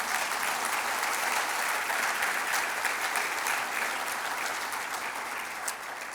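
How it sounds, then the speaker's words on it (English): Sustained audience applause fills a lecture hall after a speaker notes the World Food Program's Nobel Peace Prize, a dense, steady wash of clapping at full strength throughout, easing slightly toward the end. "Give a round of applause for that."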